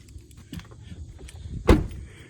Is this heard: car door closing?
yes